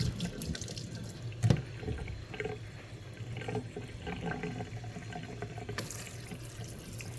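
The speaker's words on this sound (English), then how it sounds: "I will take them to the sink and drain them and rinse them with a little bit of cold water" Cold tap water runs steadily into a kitchen sink to rinse cooked pasta and peas, with a soft continuous splashing and an occasional clunk of a colander or pot, and no talking.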